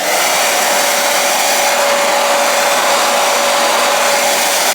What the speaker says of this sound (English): And now I'm gonna blow dry.